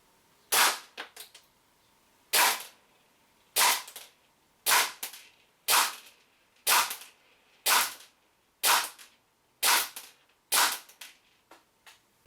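A WE P90 gas blowback airsoft gun fires a steady series of about eleven sharp, loud cracking shots at roughly one-second intervals during a 10-metre accuracy test, with quiet gaps between and no voices.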